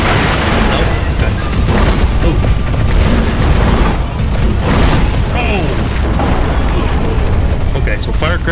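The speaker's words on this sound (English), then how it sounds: "firecrackers work pretty good" Loud, continuous firecracker blasts and booming crackles in Sekiro: Shadows Die Twice pile up in rapid succession, dense and close, with a voice talking over the din.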